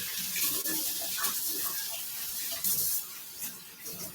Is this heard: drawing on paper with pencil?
no